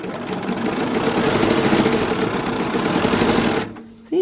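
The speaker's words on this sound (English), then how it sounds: "I just press down my foot and then it starts sewing, and when I go quicker like this, the needle will just move faster." A sewing machine runs steadily and loudly with a rapid, even needle chatter while stitching free motion quilting, then cuts off abruptly near the end.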